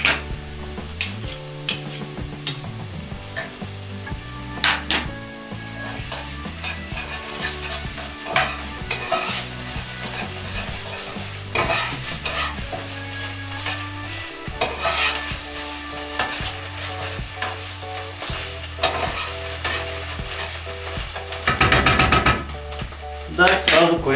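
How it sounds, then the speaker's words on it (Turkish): Bulgur stirred with black pepper in a frying pan, a steady sizzle under scraping spoon strokes and occasional clinks of utensil against the pan, close and continuous. "Şimdi karıştırıyoruz."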